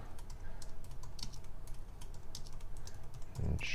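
Rapid keystrokes patter on a computer keyboard, close and steady, with brief pauses between bursts and a louder thump near the end.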